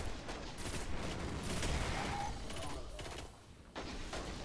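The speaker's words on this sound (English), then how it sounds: "Will you stop fucking shooting at me?" Enemy gunfire in the Destiny video game, rattling streams of fairly faint shots over a rumbling battle, with brief voices and a short lull near the end before firing resumes.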